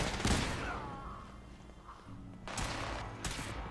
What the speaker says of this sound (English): the courser's shooting the caravan guards too